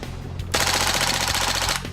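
An AKG rifle fires a rapid automatic burst of about a dozen loud, close shots at a steady rhythm. Quieter background noise comes before and after the burst.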